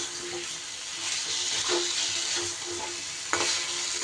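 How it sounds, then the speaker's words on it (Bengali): Fried taro (kochu) gets stirred into spices in a pan, with soft scraping and gentle sizzling at close range, a few sharper spoon strokes standing out over the low frying hiss, and no talk. "এইবার ভেজে রাখা কচুগুলো আমি দিয়ে দিলাম, দিয়ে একটু মিশিয়ে নেব মশলার সাথে ভালো করে।"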